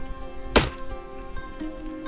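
A single solid wooden thunk of an axe or blade striking a tree trunk in the video game A Plague Tale, one sharp hit with a short decay over quiet background ambience.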